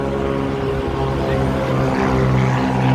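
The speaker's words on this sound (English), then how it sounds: "Love that airplane." Propeller airplane flying overhead, a loud steady droning engine hum with layered tonal harmonics that swells slightly louder toward the end, heard alone without talk.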